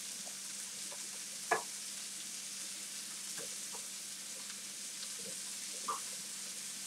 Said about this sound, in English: Now we're going to keep going until the onions and the garlic get golden brown and the pancetta is just a little crispy.